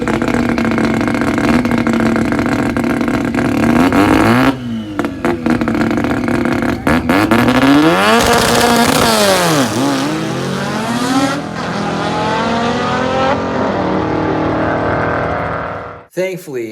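A race car at the Sick Summer event, running an extra quart of oil and extra boost and spitting oil, revs hard with loud, rising and falling engine sweeps before cutting out abruptly near the end.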